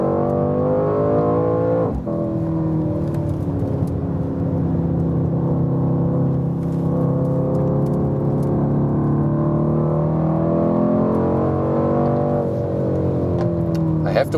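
A Mercedes C63 AMG Coupé engine growls loudly through a series of corners, its deep tone rising and falling with throttle as the revs climb and dip, close and continuous, with a brief shift-like dip early on.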